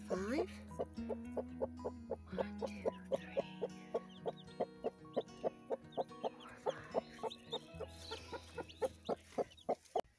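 Newly hatched chicks give a rapid, steady series of short peeps and clucks close by, with faint background hum and a little talk.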